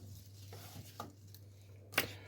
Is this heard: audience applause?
no